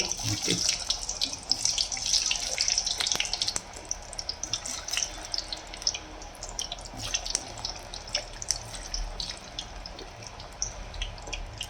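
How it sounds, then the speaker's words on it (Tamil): Cubes of elephant foot yam sizzling in hot oil, a steady hissing crackle with sharp pops throughout, close and fairly loud with no talking. "க்யூப்ஸாக கட் பண்ணி வச்சுருக்கிற சேனக்கிழங்கை எண்ணெயில் போட்டு"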